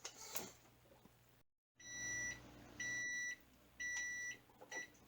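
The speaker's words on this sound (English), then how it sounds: "Alright, timer is going off." Kitchen timer beeping while meatballs are made for pressure canning: repeated bursts of high, steady electronic beeps, about four groups in a loose rhythm, loud and close in a quiet kitchen with no talking.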